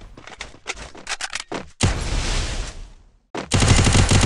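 Gunfire in the Free Fire video game during a Clash Squad match: several short bursts of rapid shots, then a long sustained volley, a brief gap and another loud burst, all close and dominant with no talk.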